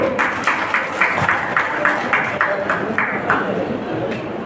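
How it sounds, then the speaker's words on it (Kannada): Audience at a Sharana culture and literature conference in Kalaburagi clapping in steady rhythmic applause, bright and fairly close, with a voice over a loudspeaker heard beneath it. "ನಾವೆಲ್ಲ ಜೋರಾಗಿ ಮತ್ತು ಚಪ್ಪಾಳೆಯನ್ನು ಬಾರಿಸಬೇಕು"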